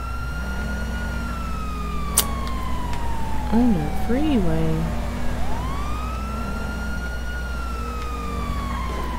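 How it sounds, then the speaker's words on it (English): Police car siren in GTA 5 on a freeway, a loud steady wail sweeping slowly up and down over engine drone, with a short yelp burst midway and someone talking over it. "See, they know they hear my sirens and don't stop."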